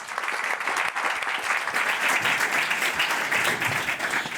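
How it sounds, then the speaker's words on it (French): An audience at a conference round table claps continuously, a lively, even patter of many hands that stays at a steady volume from start to finish. "Vous pouvez l'applaudir."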